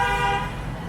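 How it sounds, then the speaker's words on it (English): A car horn blares in busy Ho Chi Minh City street traffic, a loud sustained tonal honk fading after about half a second over low road rumble. "There's still horns honking everywhere"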